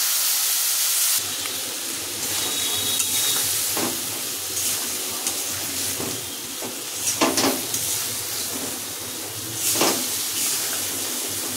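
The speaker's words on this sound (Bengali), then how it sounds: "এবার দেবো সামান্য একটু জল মশলাটা কষানোর জন্য" A little water hits frying spice masala of turmeric, chilli, cumin and coriander in a pan, setting off a steady sizzle and steamy hiss with a few louder bursts and stirring scrapes.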